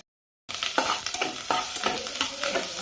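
Onions sauté in a hot pan for a sweet potato masala, a continuous bright sizzle that starts abruptly after a short silence, with several soft scraping stirs of a spoon cutting through it.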